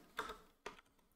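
Console command typed on a computer keyboard while playing CS:GO: a couple of quiet, close key clicks with a short pause between them, no voices.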